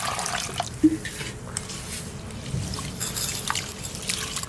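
Liquid poured slowly into a pot of khichuri with fried moong dal, giving a soft, steady trickle and drip that runs throughout, close and fairly quiet, with no talking.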